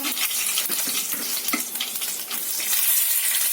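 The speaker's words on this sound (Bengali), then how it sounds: "গোটা জিরে আর কালো জিরে ফোড়ন দেব তার সঙ্গে তেজপাতা" Whole cumin, nigella seeds and a bay leaf temper in hot oil, making a bright, continuous crackling sizzle with small pops throughout and no one speaking.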